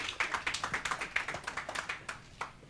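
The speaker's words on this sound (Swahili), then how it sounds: "Makofi kwa kijana tafadhali." An audience claps at an office launch event in Nyahururu town: a quick run of many fairly faint handclaps lasting a few seconds, with no talking over it.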